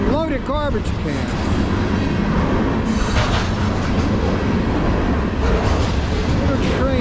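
A long CSX freight train rolls slowly past on the Lehigh Line, a dense, continuous rumble of wheels and cars close by, opening with the tail of a bending horn note and carrying steadily to the end.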